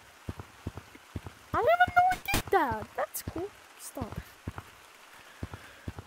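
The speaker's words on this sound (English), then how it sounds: "the little cloud it's raining on me." Rain falls from a small cloud in Gorilla Tag, sparse individual drops tapping irregularly throughout, close and fairly crisp, with a person talking over the middle.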